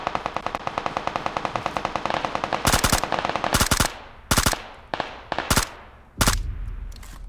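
Rapid automatic gunfire in a video game shootout, a long steady burst of fast shots followed by several short, loud bursts with brief pauses between them.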